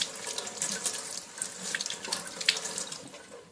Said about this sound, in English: give it a quick rinse in some clean water